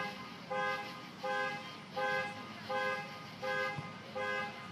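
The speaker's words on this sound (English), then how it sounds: "Someone's alarm just went off there." An electronic alarm beeps in a regular repeating pattern, six evenly spaced tones over steady outdoor background noise at a park ballfield in the evening.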